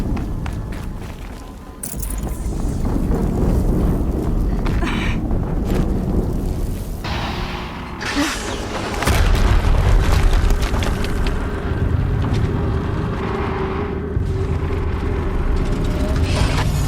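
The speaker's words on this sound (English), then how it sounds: "Another explosion." An explosion in the action game Horizon Zero Dawn gives a loud, sustained roaring rumble, with a deep blast swelling midway and a thick wash of noise running through to the end.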